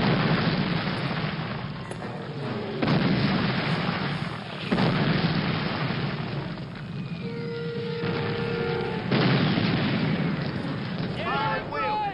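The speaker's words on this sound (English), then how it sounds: "Get a satchel charge and blow that wall!" Battle noise from Call of Duty: United Offensive as a satchel charge blows open a wall, with heavy booming blasts and rumbling gunfire filling the scene while voices shout over the din.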